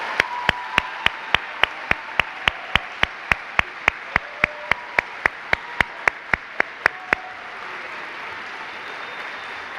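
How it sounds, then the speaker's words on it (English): A high school awards-ceremony audience applauds the People's Choice Award winners with a broad bed of crowd clapping. Sharp, evenly spaced single claps ring out on top for about seven seconds, and then the general applause carries on alone. "Let's have one more round of applause for our People's Choice Award winners."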